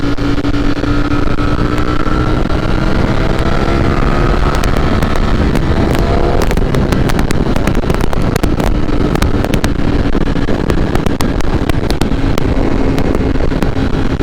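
A Ducati V4 Streetfighter motorcycle accelerates hard in fourth gear, its engine roaring continuously and loudly beneath heavy, buffeting wind rush, with the engine pitch rising gradually throughout.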